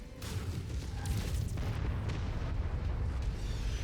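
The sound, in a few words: artillery explosions in video game Mechwarrior 5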